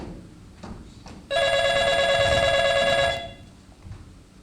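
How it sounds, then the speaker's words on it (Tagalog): A telephone rings with a steady electronic trill lasting about two seconds, loud and close, with faint room noise before and after. "Inday, telepono please"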